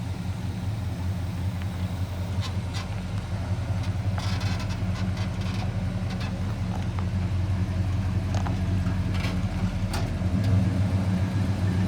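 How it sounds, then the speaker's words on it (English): A 1970 pickup truck engine idling nearby, a steady low rumble with a few faint clicks and clatters over it. "This truck sounds awesome."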